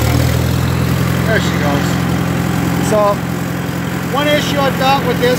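An older tractor engine runs steadily at a low, loud idle just after starting, with the throttle opened, a constant rumble filling the clip while someone talks over it close by.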